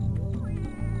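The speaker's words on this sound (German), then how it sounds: "Eine Katze." A cat meows in the video game Tenchu Stealth Assassins. It is one short, close, drawn-out meow that wavers in pitch, heard alone.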